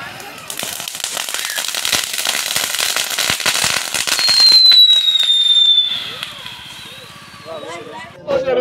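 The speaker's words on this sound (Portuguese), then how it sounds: "Tocar fogos agora, meu povo." Fireworks go off at a night bonfire celebration, a dense run of sharp crackling bangs followed by a whistling rocket streak, loud and near, with people talking over the noise.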